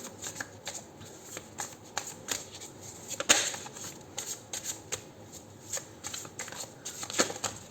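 Tarot cards are shuffled repeatedly up close, a quick papery riffling and flicking in irregular bursts, fairly quiet with no talking.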